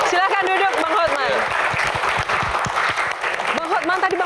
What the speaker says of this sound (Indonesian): tepuk tangan buat Hotman Paris